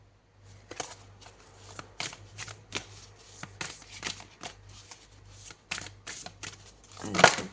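Oracle cards shuffled by hand, a close steady run of riffling slaps and flutters with a louder burst at the end, no talk.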